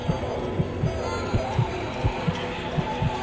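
Heartbeat sound effect from a VRChat horror game: steady low double-thump pulses repeating about every half second over a hissy background drone.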